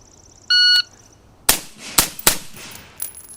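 Rifle fitted with a Brownells lightweight bolt carrier group firing rounds: a short electronic beep, then three sharp, loud, close shots in quick succession followed by a fainter fourth crack.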